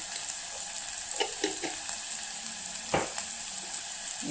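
Spices for a drumstick curry frying in a pan: a steady, quiet sizzle with a few clinks and scrapes of stirring scattered through it.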